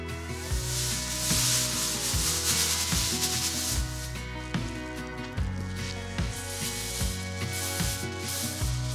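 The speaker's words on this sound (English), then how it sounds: "I'm going to just kind of close the top of the bag and shake it just to make sure that's all mixed together and evenly distributed" Seasoned flour rustles and thumps inside a closed bag as it is shaken, a continuous rough scraping with rhythmic soft knocks, close and steady throughout with no talking.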